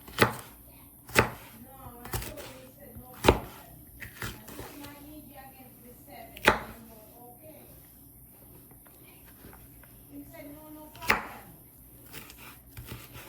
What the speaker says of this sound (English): So what I do is I also just cut them a little long way